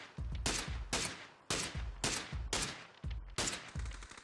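Sharp gunshots fired at moving targets in PUBG, coming in quick pairs and short bursts with brief pauses between, loud and close with nothing else around them.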